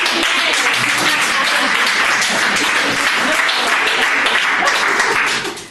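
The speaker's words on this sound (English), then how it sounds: "big clap for" A crowd at a participatory games workshop breaks into loud, dense applause that runs unbroken and even throughout, dropping off only at the very end.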